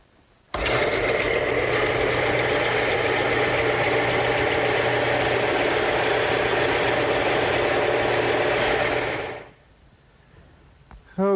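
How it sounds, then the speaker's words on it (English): A stationary belt sander tapers a wooden piece held upright against the belt, giving a loud, steady grinding whir that starts abruptly, runs evenly for about nine seconds, then stops and winds down into quiet. "But I'm going to use my stationary belt sander."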